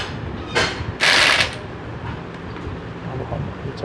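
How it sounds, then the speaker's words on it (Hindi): A bolt gun tightens bolts on a Honda Dream Yuga CD 110 motorcycle wheel, giving two short loud whirring bursts close by over a noisy workshop background. "अब हम चक्ल के ये बोल्ट गन से टाइट कर लेंगे।"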